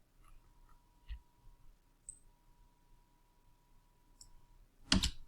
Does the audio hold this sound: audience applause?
no